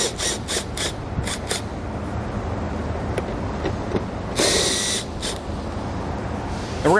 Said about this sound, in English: we're going to remove the 2 bolts